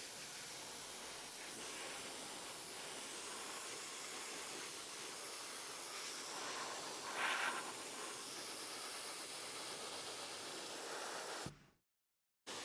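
Airbrush spraying paint onto miniatures at about 22 psi gives a steady, fairly quiet broadband hiss that runs continuously, swells briefly near the middle, then cuts off abruptly before a short return at the end.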